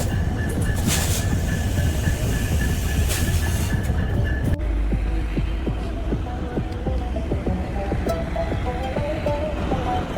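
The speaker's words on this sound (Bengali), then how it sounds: "আন্তনগর ব্রহ্মপুত্র এক্সপ্রেসকে দাঁড় করিয়ে ট্রেন প্রবেশ করল বঙ্গবন্ধু সেতু পূর্ব রেলওয়ে স্টেশনে" An intercity train rolls into Bangabandhu Setu East railway station in Bangladesh. It is close and loud, with a rumbling hum and a steady series of rhythmic wheel clacks over the rail joints.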